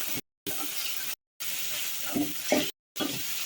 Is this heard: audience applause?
no